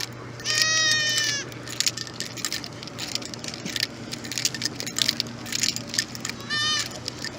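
Goats, with a baby among them, bleat in loud wavering calls, one near the start and another at the end, over a low steady hum and scattered knocks near a mall. Soft human sounds come up in between.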